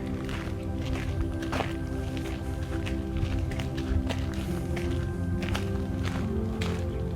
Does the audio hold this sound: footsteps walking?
yes